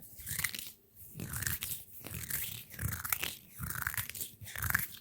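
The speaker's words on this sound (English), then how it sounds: "these crunchy, crunchy, crunchy, crunchy hand sounds" Close, dense crunching and crinkling in bursts, crisp and textured like brittle material being squeezed between hands.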